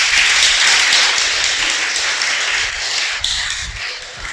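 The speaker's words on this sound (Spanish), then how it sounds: "Dale un aplauso al Creador." Loud, sustained clapping from a large church congregation, steady and dense, slowly thinning toward the end.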